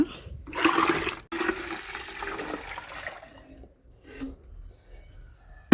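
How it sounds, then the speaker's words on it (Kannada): Water splashes and pours into a bucket in bursts, with a gurgling, flushing character and short pauses, close and moderately loud, as water stored for a day is shifted over for watering plants. "ಎಲ್ಲವನ್ನು ಒಂದು ಬಕೆಟ್ಗೆ ಶಿಫ್ಟ್ ಮಾಡ್ತಾ ಇದ್ದೀನಿ"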